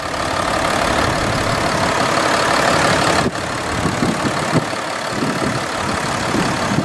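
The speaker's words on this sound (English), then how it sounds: "let's fire up the Discovery and take it on a test drive" A 2014 Land Rover Discovery 4 XE with a 3-litre twin-turbo V6 running, a steady close engine drone and rumble at idle, holding level throughout with a short break partway before settling back into the same even note.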